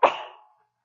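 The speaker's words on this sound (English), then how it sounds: "Oh, I'm going to sneeze." One short, explosive sneeze up close, a sharp burst that fades within half a second, followed by silence.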